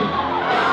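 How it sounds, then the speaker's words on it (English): Wedding guests at a reception at The Liberty House in Jersey City cheer and shout as a couple is announced, a dense, loud wall of crowd voices that swells slightly toward the end. "Cheer him on, folks."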